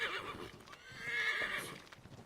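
A horse in the video game Assassin's Creed 3 gives a clear whinnying neigh over soft clip-clopping hooves, moderately close.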